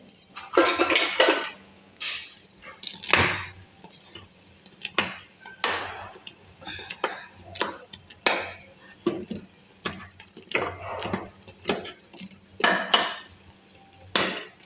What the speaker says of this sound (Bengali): একটু ভেঙে দিলে ভালো হয় আর কি ম্যাগিটা